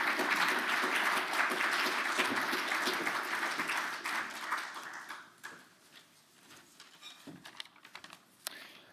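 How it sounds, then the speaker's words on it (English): Warm applause from a conference audience welcoming a speaker to the stage, a full burst of many clapping hands that gradually thins out into scattered individual claps as it fades toward the end. "Let's have a big, warm round of applause for Ben."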